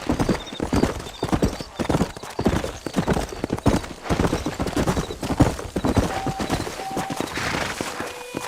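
Horse hooves clip-clopping at a steady gallop in the Red Dead Redemption game, a rapid continuous rhythm that stays loud and close throughout, with a brief whinny and faint game sounds layered in.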